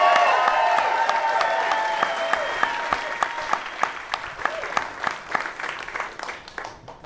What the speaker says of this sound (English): Clap for Ahren, everybody.